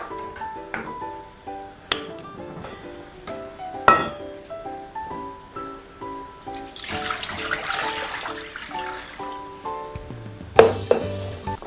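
Metal idli steamer pot set on a kitchen stove while cooking Vishu ada: scattered sharp metallic clanks and knocks with ringing tones, a short burst of running water midway, no speech.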